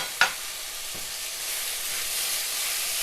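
Tomato, mint and coriander leaves fry in a pan for egg biryani, giving a steady close sizzle and hiss that swells after one sharp stirring clack near the start.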